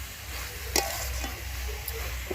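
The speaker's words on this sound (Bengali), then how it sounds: "ভিনেগারটা দিয়েও কিন্তু মিশিয়ে নিচ্ছি খুব ভালোভাবে" Chalta (elephant apple) pickle being stirred in a pan after vinegar is added, a soft steady sizzle with a few scraping strokes and light taps of the spoon close by.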